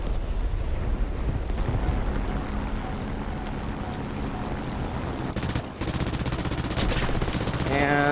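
AI enemy gunfire in a War Thunder air battle, rapid continuous machine-gun bursts and booming blasts over a droning engine roar, loud and dense throughout.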